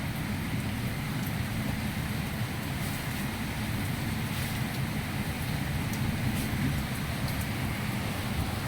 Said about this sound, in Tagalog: Yung ulan.